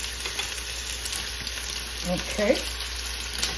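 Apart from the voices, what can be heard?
lemon garlic butter lamb chops frying in a pan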